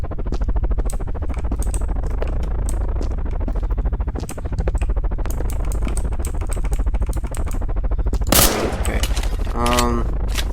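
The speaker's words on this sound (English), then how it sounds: "And then activates alt fire, firing a grenade." Rapid automatic gunfire in a video game runs as a dense clatter of shots, then an alt-fire grenade launches with a sharp burst near the end, followed by a brief rising electronic tone.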